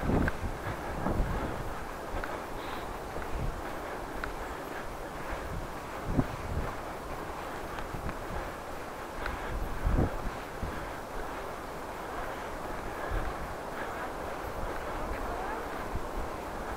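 Wind buffets the microphone of a cyclist riding through snow, giving a continuous rushing roar with occasional gusty thumps under intermittent speech.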